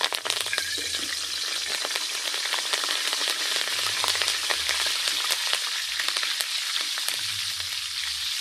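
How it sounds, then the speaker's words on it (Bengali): Curry leaves fry in hot oil for homemade spicy chanachur, giving a steady close sizzle dotted with sharp crackles and spits throughout. "এখানে কয়েকটা কারি পাতা নিয়েছি কারি পাতাটা ভেজে নেব"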